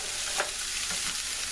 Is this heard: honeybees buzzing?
no